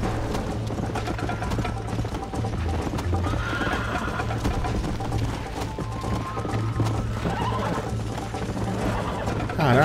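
A horse in the video game Red Dead Redemption, with continuous hoof clip-clop and an occasional neigh over a busy game soundscape, and someone speaking faintly in places.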